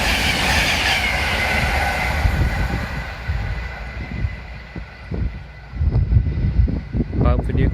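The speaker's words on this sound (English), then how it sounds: "Here comes a Virgin Trains East Coast." A Virgin Trains East Coast train runs through Chester-le-Street station toward Newcastle, a loud steady rumble that eases, then returns with rhythmic wheel clatter and brief squeals, close by on the platform.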